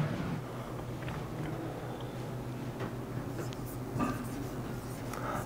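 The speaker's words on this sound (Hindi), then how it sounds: "लिख देता हूं मैं" Marker or chalk scratches across a classroom board during a Hindi grammar lesson, a steady scratchy texture with small stroke bursts under a constant room hum, close and fairly quiet, with no one talking.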